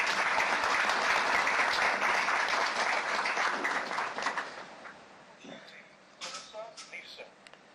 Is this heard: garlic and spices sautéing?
no